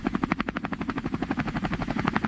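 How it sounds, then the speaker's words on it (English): Helicopter sound effect with rapid, steady rotor chopping, a fast even thumping pulse at moderate loudness that continues without pause and has no voices over it. "It's a helicopter."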